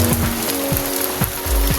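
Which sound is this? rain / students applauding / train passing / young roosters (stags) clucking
rain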